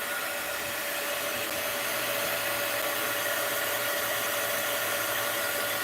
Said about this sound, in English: for now I'm just going to dry it with my heat gun